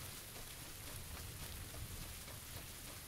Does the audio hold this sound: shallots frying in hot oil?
no